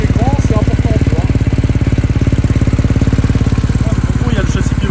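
Motorcycle, the GMK Edition 101, idling with a steady loud close throb while its adaptive suspension raises the bike, someone talking over the running engine.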